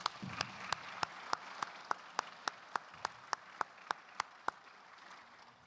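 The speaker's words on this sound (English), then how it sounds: "We'll give them a round of applause to start the day." At a Hall of Fame induction, a single pair of hands claps in a slow, even rhythm, about fifteen crisp claps spaced roughly a third of a second apart over a quiet room, stopping near the end.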